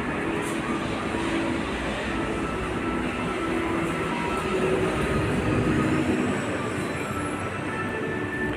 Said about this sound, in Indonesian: salah satu stasiun MRT di Jepang